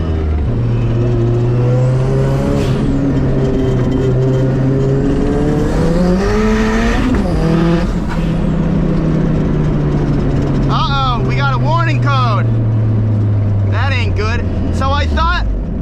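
A roadster's engine hums steadily up close, its pitch slowly rising and falling as it warms and rolls off around a lot, with a voice talking over it near the end.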